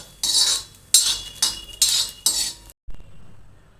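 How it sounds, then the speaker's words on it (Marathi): Lima beans (pavta) roasting on a black iron tawa are turned with a metal utensil, giving four sharp, close scraping clinks at a steady pace, followed by a sudden drop to near silence. "खरपूस भाजून घ्या पावटा खरपूस भाजा पावटा अशा प्रकारे हे बघा"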